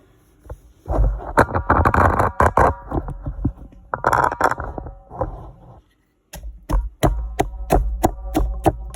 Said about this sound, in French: donc je vais broyer mes épices maintenant